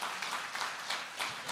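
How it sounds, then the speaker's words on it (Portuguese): A church congregation claps during a sermon, a brief burst of steady, dense applause. "a igreja pode oferecer um lindo aplauso pelas fontes de águas que esta igreja tem"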